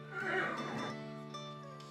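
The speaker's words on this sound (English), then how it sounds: "Obviously, new horse." A horse from the Sims 4 Horse Ranch game trailer lets out one whinnying neigh, rising then trailing off with a tonal shake, fairly close and clear with no talking over it.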